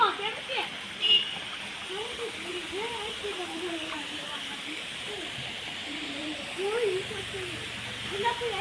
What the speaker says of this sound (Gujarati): જો પાણી આવે છે